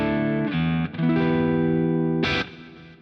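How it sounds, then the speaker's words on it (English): Electric guitar played through a Positive Grid Spark amp with the boost pedal off: a few sustained chords ringing with a mild gritty edge, changing twice before a brief bright strum near the end, then decaying. "So the sound of the guitar going through to the amp without the boost pedal on sounds like this."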